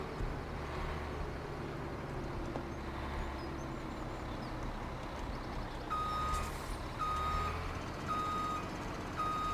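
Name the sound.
truck reversing beeps backing a trailer, video game Farming Simulator 17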